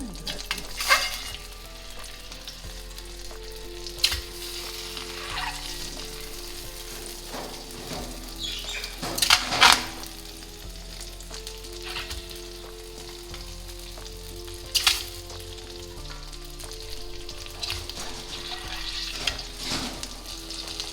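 An egg fries in butter on a hot dosa griddle for street-style fried egg, giving a steady close sizzle throughout with occasional sharp scraping clicks of a spatula.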